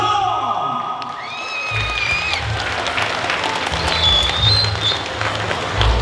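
Guests at a quinceañera party in Greenfield, California applaud and cheer for the godfather, a crowd clapping that swells after an announcer's voice, with scattered whoops and chatter over the noise.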